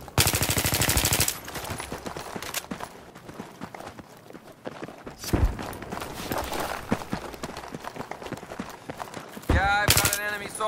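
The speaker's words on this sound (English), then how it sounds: "Enemy machine gunner spotted." Bursts of automatic machine-gun fire in Battlefield 3, rapid loud rattles at the start and end with scattered shots, footsteps and game noise between, while voices speak over the action.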